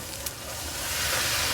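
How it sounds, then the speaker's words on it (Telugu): Banana puri deep frying in hot oil gives a steady soft sizzle and hiss that builds slightly, with no talking. "అన్నిట్లాగే డీప్ ఫ్రై చేసుకోవాలండి మనం"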